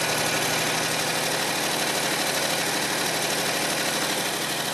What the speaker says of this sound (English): I'm going to let my foot down, see if it'll idle. That's idling.